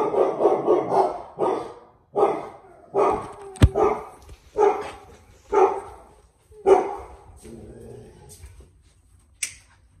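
A dog barks repeatedly at close range, a series of sharp, separate barks spaced about a second apart, with a sharp snap partway through.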